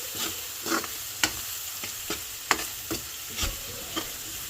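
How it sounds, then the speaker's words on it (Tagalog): Onion and garlic sautéing in oil left over from frying, a steady close sizzle punctuated by sharp scrapes and taps of a stirring utensil at irregular intervals. "yun din ang pagsusutay natin ng sibuyas at saka bawang"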